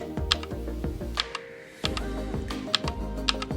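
Gaming keyboard keys pressed in short combinations to switch the LED backlight colours, a series of sharp clicky taps spaced unevenly over a steady low hum.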